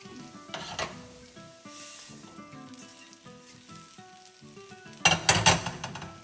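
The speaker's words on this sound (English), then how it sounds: "We're gonna mix it, fry for a few minutes." Potatoes and okra fry in a pan for dry bindi aloo, a soft crackle with scattered light scrapes of stirring and a louder burst of clattering near the end.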